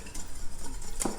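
Eggs being stirred into a lemon cream mixture in a saucepan, a soft continuous scraping and mixing with a brief louder clink of utensil against the pan near the end.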